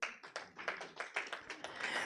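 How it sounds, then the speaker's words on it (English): An audience at a legal panel discussion claps for the speakers in a short burst, the hand claps coming quickly and unevenly at moderate loudness. "I think they deserve a mighty hand clap."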